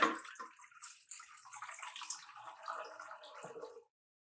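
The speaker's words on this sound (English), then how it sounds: "we're going to go ahead and add the water into the mixer" Water is poured into a stand mixer bowl for Neapolitan pizza dough, a steady close splashing and trickling stream lasting several seconds before stopping abruptly.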